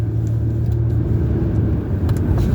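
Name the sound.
car driving over a rough street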